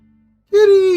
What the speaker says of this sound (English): there's a lot of cats around here